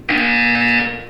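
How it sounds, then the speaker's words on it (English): In the video game Portal 2, a single loud electronic buzzer drones for about a second with a rich, harsh, steady tone, then cuts off. "You will hear a buzzer."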